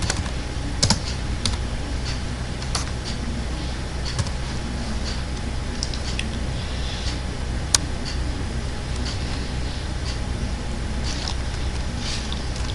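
Typing on a computer keyboard, a steady patter of close key clicks with a few louder taps, continuing alone throughout.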